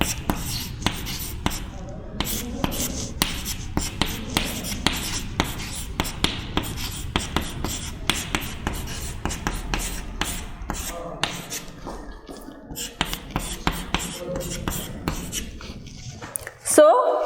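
Writing on a board during a physics math lecture produces steady scratchy strokes and taps throughout, alongside a person talking.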